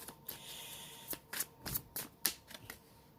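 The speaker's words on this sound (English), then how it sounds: "I love this deck. It's easy to shuffle." Tarot card deck being shuffled close up, a series of quick riffling bursts and soft slaps at uneven intervals, with quiet room tone in between.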